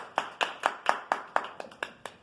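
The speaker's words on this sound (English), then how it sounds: "give him a hand clap" Slow, evenly spaced hand claps, about nine in a row, close and fairly sparse, as if only a few people are applauding.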